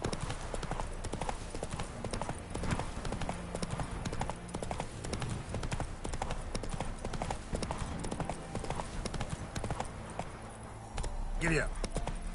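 Roach, Geralt's horse in The Witcher 3, gallops with a steady, close clip-clop of hooves across the whole stretch, mixed with game ambience and a short sharp noise near the end.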